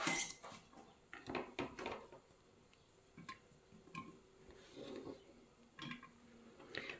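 Small clinks and knocks of garlic cloves and cut pepper dropped one after another into a glass jar, close and fairly quiet, with brief pauses between.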